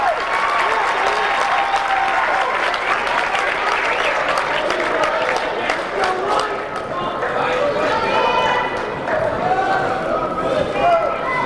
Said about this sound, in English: They're cheering everything that happens on the floor here in the early going.